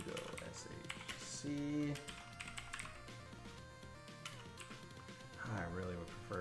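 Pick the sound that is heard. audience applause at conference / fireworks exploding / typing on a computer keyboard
typing on a computer keyboard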